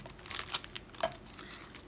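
Ice cream sandwiches are pulled from their wrappers in a few quiet bursts of crinkling and tearing plastic, close up and faint, with no talking.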